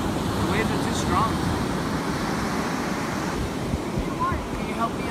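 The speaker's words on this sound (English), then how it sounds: "The waves are too strong." Ocean waves surge and wash onto a beach in a steady, loud roar heavily buffeted by wind noise, with a few faint voices in the background.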